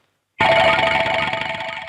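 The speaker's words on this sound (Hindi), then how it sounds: "मैंने तुम्हारी माँ को लाला के ऑफिस से फोन किया।" A telephone rings in a Hindi drama scene, a call placed from an office. One bright, sustained ringing tone starts abruptly after a short silence and holds loud and steady until it cuts off.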